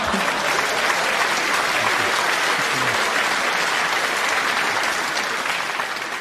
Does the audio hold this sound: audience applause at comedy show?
yes